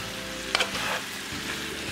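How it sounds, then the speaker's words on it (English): Green cabbage sizzles steadily in a hot pan while being sautéed and stirred, with a soft clatter of the utensil midway, close and alone without talk. "this is pretty much how I saute my cabbage"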